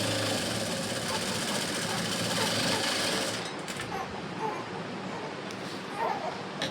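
A sewing machine stitches a blouse seam in a steady, fast mechanical whir that runs loud and continuous for about three seconds, then stops, leaving quieter handling noise and faint background sound.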